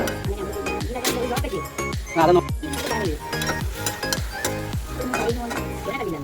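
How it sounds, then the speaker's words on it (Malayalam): Lemon pieces sautéing in hot oil for a lemon pickle, a steady sizzle broken by repeated scrapes and clinks of a spoon stirring the pan, close and fairly loud. "നല്ലവണ്ണം വഴറ്റി ചേർക്കുക ഒരു അഞ്ചാറ് മിനിറ്റ് ഒന്ന് വഴറ്റേണ്ടി വരും"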